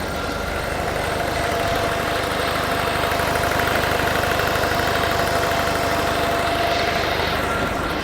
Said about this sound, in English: Really smooth running diesel engine, and relatively quiet for a diesel too.